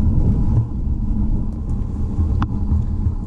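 Road traffic rumbling steadily through the busy village of Hawkley, cars on the green, a low continuous engine drone with a brief passing swell, fairly loud and without talk.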